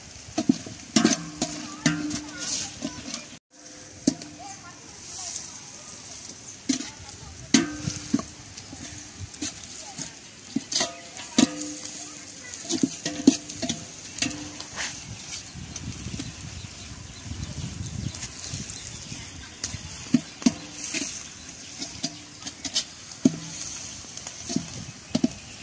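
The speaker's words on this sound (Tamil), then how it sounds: "வெங்காயம் நல்லா வதங்கட்டும்." Onions sautéing in a pan for Mannargudi-style mutton biryani, a steady sizzle broken by repeated scraping and clanking stirs of a spoon against the pan, close and continuous throughout.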